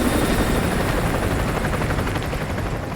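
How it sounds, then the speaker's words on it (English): An enemy helicopter patrols overhead in the Call of Duty: Modern Warfare 2 Remastered oil rig mission. Its dense, steady rotor chop fills the whole moment, close and loud, with no talking. "Enemy helo patrolling the perimeter."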